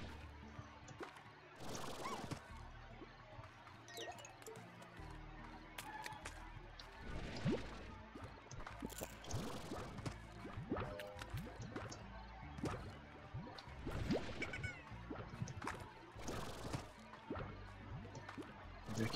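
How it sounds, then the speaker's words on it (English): Wet, squishy dripping and splatting sounds from slimes pooping in the video game Slime Rancher, scattered irregular squelches over a busy background of game noise and music. "I keep hearing sounds like pooping sounds"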